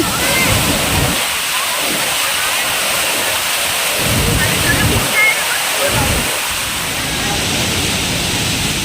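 Steady, broad rushing of the Savdav waterfall near Kankavli fills the scene, loud and close, with a few voices talking faintly beneath the roar.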